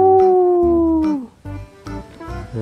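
A toy wolf gives a loud, close, sustained electronic howl that slides downward and then cuts off, followed by clattering toy sounds.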